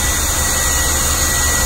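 A hair dryer and a vacuum cleaner run together off a dump truck's power supply, a loud, steady, dense roaring whoosh with a low hum underneath, unbroken throughout, no talking.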